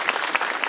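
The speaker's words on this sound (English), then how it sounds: "Let's give them a round of applause" An audience applauds two Spam dishes at a cooking contest, a short dense burst of clapping with a few louder peaks.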